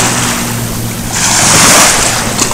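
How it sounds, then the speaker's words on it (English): Waves wash in on a lake shore at a state park near a cypress tree, a loud surging rush that swells midway, mixed with gusty wind buffeting close by. "A little bit bigger waves coming in here"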